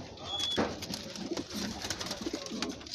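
Pigeons coo softly in low, rolling calls, repeated several times over background chatter.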